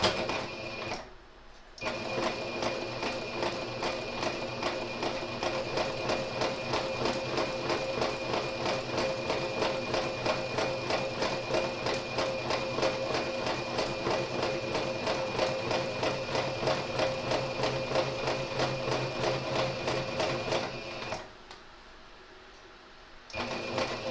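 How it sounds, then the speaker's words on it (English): Sewing machine stitching fabric sashing along a line, a fast steady mechanical rattle of the needle that starts abruptly, runs evenly for about twenty seconds, then stops and briefly resumes at the end. "We're going to be stitching virtually on top of the dark green line there"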